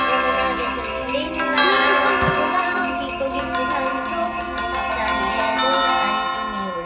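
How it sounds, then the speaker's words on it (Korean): Bells ring with sustained, layered metallic tones during a Christmas church service, a steady ringing texture that fills the space without any speech over it. "하늘종이 땡땡땡."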